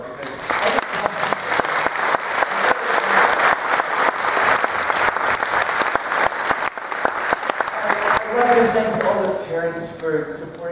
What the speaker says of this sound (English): I think everyone should give them a round of applause